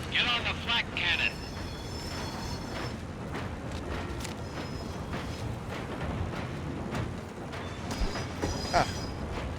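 A moving train rumbles and clatters steadily in the war video game Medal of Honor: Above and Beyond. Wheel noise and mechanical knocks continue throughout, with a few sharper metallic clanks and squeals near the start and end.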